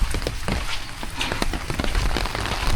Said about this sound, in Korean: 이제 비도 좀 많이 오는 것 같고